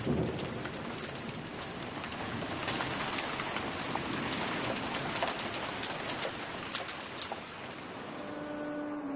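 Steady rain patters continuously on surfaces, a dense even hiss with scattered drops standing out, heard outdoors in Cuenca, Spain, for several seconds.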